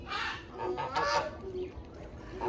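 Shelducks and other farm fowl call together in a busy chorus of honks, clucks and squawks, fairly close and overlapping, with no talk over them.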